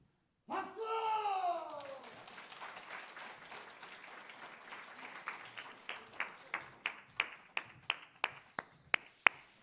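A short burst of clapping in a church revival service fades, followed by a single person's sharp, evenly spaced claps that grow louder and quicker toward the end.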